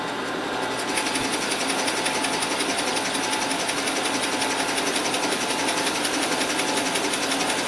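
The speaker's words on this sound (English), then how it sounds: "So we're going to go ahead and drill a 3/4 inch through hole on the 15/16 inch side of our blank." Drill press fitted with a 3/4 inch Forstner bit boring a through hole in a walnut blank, a steady loud mechanical whir with constant cutting noise running throughout, no talking.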